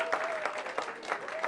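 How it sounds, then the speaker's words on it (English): Short burst of applause from an audience at a live stage show, a dense wash of claps with a few louder swells and a faint sustained tone running underneath. "there's huge applause from everyone"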